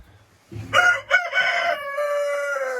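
Chickens cluck softly in a laying-hen coop before a rooster lets out a loud, close cock-a-doodle-doo crow lasting about two seconds, with no voices over it.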